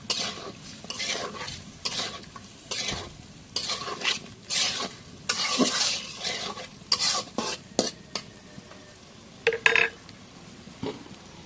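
Onions tossed into a hot pan for a taki fish and bunokochu lentil dish, stirred with a spatula amid steady sizzling and sharp scrapes and clinks of metal against the pan, close and fairly loud.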